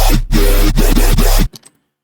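A loud, gritty Sytrus synth dubstep growl at full modulation intensity pulses in heavy wobbling bursts for about a second and a half, then cuts off abruptly into silence.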